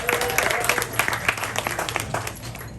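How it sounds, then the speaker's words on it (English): Audience at an anniversary event for sales engineers breaks into dense applause, many hands clapping together at steady volume, with a faint voice briefly underneath. "Round of applause for Eric."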